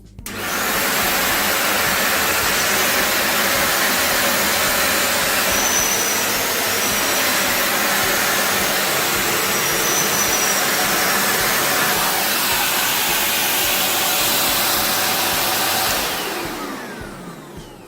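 An Altus Alesta AL 614 stick vacuum cleaner whirs steadily at close range with a high, breathy whine, running continuously before shutting off and quickly fading at the end.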